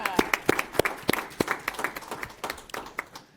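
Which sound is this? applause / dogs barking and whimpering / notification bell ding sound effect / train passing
applause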